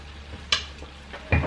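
Chicken frying in a pan gives a soft, steady sizzle with a couple of brief scraping stirs or clinks, quiet and close, no talking.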